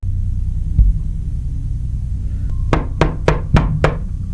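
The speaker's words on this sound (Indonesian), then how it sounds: "ada suara ketukan pintu dari luar" Four sharp knocks on a door from outside, evenly spaced and fairly close, preceded by a single dull thump over a low background rumble, with no voices.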